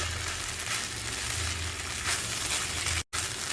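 Chopped tomato is stirred into tomato rice in a hot pan, Kerala style, with a loud, steady sizzle and faint stirring scrapes close by, cut by a brief dropout near the end.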